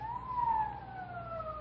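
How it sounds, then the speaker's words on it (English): Police car siren in an old-time radio drama, a wailing tone sweeping down in pitch, moderately loud and heard alone with no voices over it. "Police siren."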